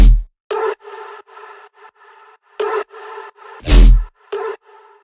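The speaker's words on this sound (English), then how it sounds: "There is also a stab and the synth shot every other bar, which sounds like this." In a bass house track, a short synth stab chord repeats in clipped pulses while a bright, noisy synth shot with a deep low thump hits every other bar, loud and dry against silence between hits.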